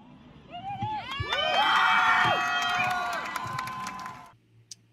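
A large protest crowd outside the Paris courthouse shouts and cheers in rising, overlapping voices that swell loud and then fade away.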